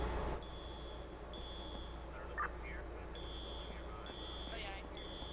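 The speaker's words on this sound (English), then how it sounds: "I hear the fire alarms going off" A fire alarm at an auto body shop in a Roblox roleplay game, sustained shrill electronic tones that stop and restart, quiet and distant against steady background hum.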